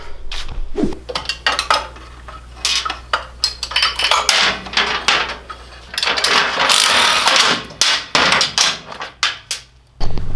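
Tools working on a Tillotson 212R race engine being taken apart, with repeated metallic clanks, taps and rattles of parts and wrenches, close and irregular, with a brief busier stretch of clatter midway.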